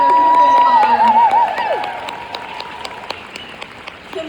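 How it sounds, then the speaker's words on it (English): A crowd applauds at an event, loud and dense clapping with some cheering at first, then thinning and fading over a few seconds. "can you give them a huge round of applause"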